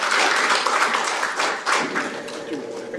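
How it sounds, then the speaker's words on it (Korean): Applause from an audience at a National Assembly forum on training national strategic maritime officers, honouring a committee chairman after his address: dense, steady clapping throughout that fades slightly toward the end, with a voice faintly mixed in. "위원장님께 큰 박수 부탁드립니다."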